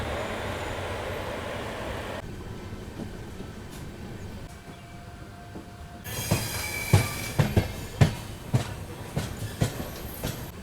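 A passenger express train rumbles steadily along the rails in Uttar Pradesh, India, then rhythmic clickety-clack thumps from the wheels grow louder and more frequent, with faint squealing.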